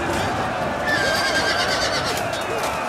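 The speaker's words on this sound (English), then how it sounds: "why can I hear horses?" Horses neigh and whinny amid a busy battle din in a Total War siege on Moria, with wargs present, a few calls rising over steady clatter and crowd noise.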